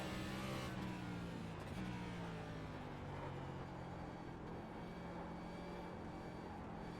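Steady engine drone of a NASCAR race car at Qualcomm Raceway in a racing video game, holding a sustained tone that rises slightly as the throttle comes back on, close and constant throughout.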